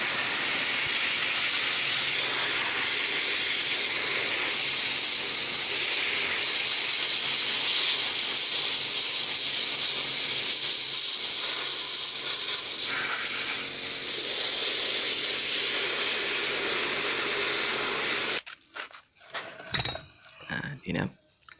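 A sandblaster blasts paint off a metal cover after its rust has been removed, making a loud, continuous rushing hiss for about eighteen seconds before cutting off into scattered clicks and handling noises.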